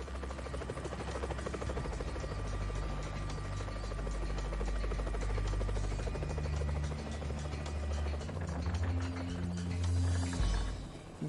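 A helicopter drones loudly and steadily throughout with a constant low rotor throb and engine whine, close and continuous, with no voices.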